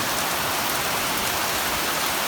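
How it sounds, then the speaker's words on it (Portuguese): Heavy thunderstorm rain pours steadily onto already soaked ground, a dense, continuous hiss close around with no talk. "E é como se fosse chuva de trovoada, pessoal."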